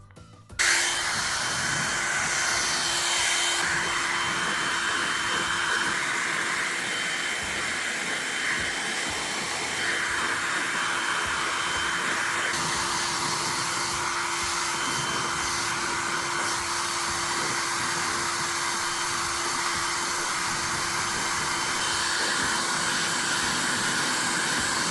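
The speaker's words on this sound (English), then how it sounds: "So using the high speed to blow dry the hair, it actually took me half the time it normally does." A Feekaa ionic hair dryer blows steadily on high speed while a dog is being groomed. It gives a loud, continuous rushing whoosh with a constant motor whine for about 25 seconds, with no talking.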